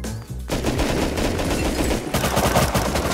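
Rapid gunfire in the survival video game Rust: dense bursts of automatic shots, loud and close, fill the moment with almost no gaps.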